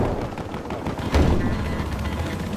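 A slow-firing gun in the video game Battlefield Hardline lets off a single heavy shot in the middle of a steady background of battle noise, with no voices.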